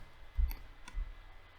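Two quick, quiet computer keyboard key presses a half second apart while working in Blender, isolated clicks over a faint room hum.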